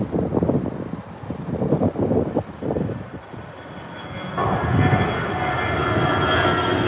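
An airplane at Chicago O'Hare airport rumbles in the distance under gusts of wind buffeting the microphone, and the engine roar builds louder and steadier over the last few seconds as the aircraft approaches.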